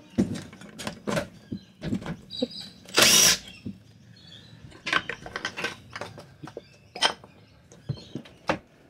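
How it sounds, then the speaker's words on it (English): An impact wrench taking apart a keel-cooled outboard motor, several short loud rattling bursts with one longer burst, mixed with clinks of sockets and parts close by. "let's grab a rattle gun and just start pulling this apart"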